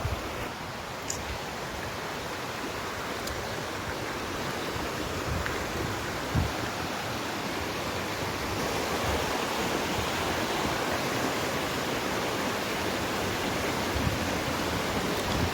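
The Geroldsau waterfall near Baden-Baden in Germany roars as a steady, dense broadband rush that fills the whole stretch, loud and unbroken with no voices.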